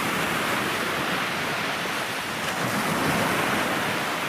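Steady roar of sea waves and strong wind on the beach at Cape Kolka, loud and continuous, with wind buffeting the microphone and no voices.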